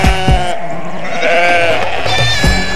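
A goat bleats loudly and close in repeated wavering calls, filling the clip with strong, drawn-out cries inside a house.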